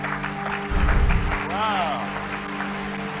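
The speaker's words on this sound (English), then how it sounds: "A big round of applause." Audience applause rises under a brief spoken exclamation and continuing voices, a broad clatter of clapping that swells for a moment and then thins out beneath the talk.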